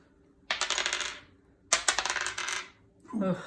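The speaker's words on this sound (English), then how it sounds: "we both roll a dice, 1 dice." Dice rolled onto a table during a board game, making two bright clattering bursts that tumble and settle about a second apart, close and fairly loud, with a quieter rattle at the end.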